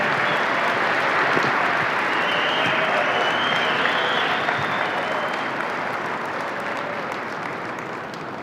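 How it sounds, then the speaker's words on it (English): An audience at a Bitcoin conference livestream applauds panelists with a loud, sustained wash of clapping that fades slightly toward the end. "I want to give a nice round of applause for our two great panelists."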